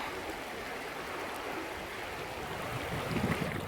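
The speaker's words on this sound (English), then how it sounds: "This is the second crossing of Harper Creek, and it's at a really, really wide spot." Harper Creek in Pisgah National Forest, North Carolina, rushes steadily at a wide crossing, a dense, even wash of flowing water close by with a slight swell toward the end and no voices.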